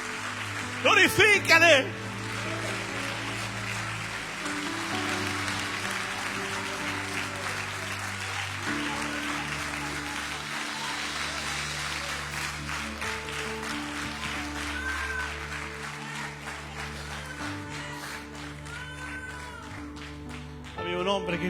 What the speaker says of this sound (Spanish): dale el mayor de los aplausos al Rey de Gloria